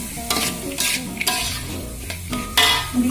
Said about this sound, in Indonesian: Setelah itu kita aduk sampai dia merata.